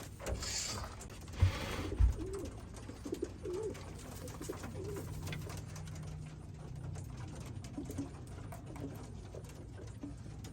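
Racing pigeons returning from a race cooing softly amid rattling, clicking mechanical noise, with a couple of dull thuds near the start.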